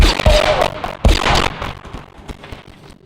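Blaster gunfire in Star Wars: The Old Republic, a few sharp loud shots and bursts, two strongest near the start and around one second, followed by fainter scattered pops and echoes.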